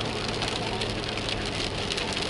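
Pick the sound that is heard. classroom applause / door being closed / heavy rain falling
heavy rain falling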